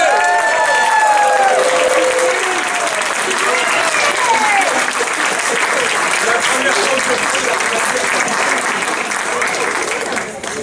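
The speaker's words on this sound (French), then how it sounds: "Allez, applaudissez, applaudissez!" Sustained applause from an audience honouring the care home staff of the EHPAD du château d'Angeville, loud and even for about ten seconds, with voices and a few whistles or calls rising over it early on.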